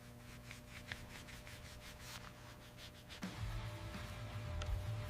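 Polishing compound being rubbed onto a plastic part of a WWII rifle in quick, faint, rhythmic rubbing strokes. A slightly louder, steadier wiping follows, close and quiet, with no speech.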